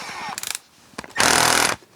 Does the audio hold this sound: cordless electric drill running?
yes